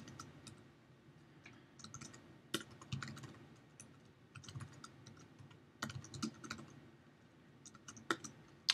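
Computer keyboard typing, quiet and close, with irregular bursts of key clicks and short pauses between words while entering text on a Mac running Lion.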